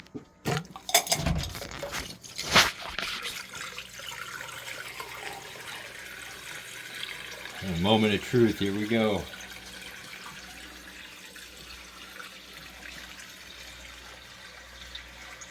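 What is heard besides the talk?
bucket of aquarium water draining through DIY pipe and valve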